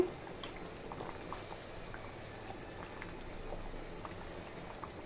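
Beef curry gravy simmering in a pot as it reduces, a quiet, steady bubbling with small pops throughout and no voices.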